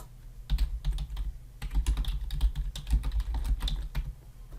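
Fingers type on a computer keyboard, a quick irregular run of close, crisp key clicks with short pauses between bursts, fairly quiet and with no talking.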